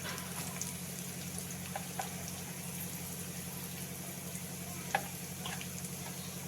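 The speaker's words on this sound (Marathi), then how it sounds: "आपण एक छोटं गाजर घेतलेला आहे एक छोटा कांदा घेतलेला आहे असं छान परतून घेऊ" Onion and carrot sautéing in a pan for wheat rava upma, a steady soft sizzle with a low hum beneath and a few faint clicks of stirring, no talk.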